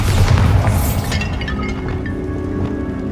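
A Bombarda exploding spell cast in Hogwarts Legacy, a single loud booming blast followed by a rushing, fading debris rumble, close and heard alone.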